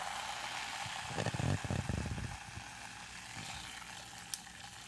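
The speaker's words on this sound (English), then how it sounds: "Ice cube tipped over. Ice cubes are very loud" An ice cube tips over in a glass of Coca-Cola, a brief close rattle and clatter lasting about a second, then settling into quiet background hiss with no talking.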